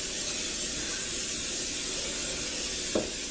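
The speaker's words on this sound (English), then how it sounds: "I want to spray my bread pan really" Cooking spray hisses steadily from an aerosol can into a bread pan, a close, continuous spray of about three seconds ending with a brief click.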